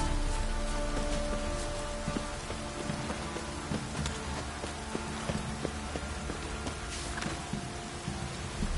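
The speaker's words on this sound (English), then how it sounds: "Those have brought us rain." Steady rain patters and splashes on surfaces, with scattered louder drips and taps over a continuous wash of noise, in the video game The Witcher 3: Wild Hunt.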